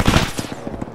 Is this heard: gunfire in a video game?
yes